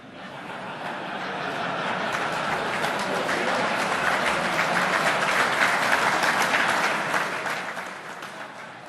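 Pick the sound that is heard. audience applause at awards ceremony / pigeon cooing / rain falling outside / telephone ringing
audience applause at awards ceremony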